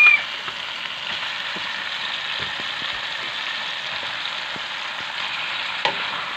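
Pork ribs fry with tomatoes in a pan, giving a steady, moderate sizzle with faint scattered ticks and scrapes throughout, no voices.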